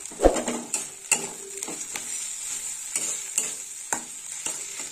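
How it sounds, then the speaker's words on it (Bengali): Garlic and ginger spice paste fries with a bay leaf in a pan for fish kalia, a soft continuous sizzle broken by repeated scraping clicks of stirring. "মশলাটা একটু ভাজা হোক।"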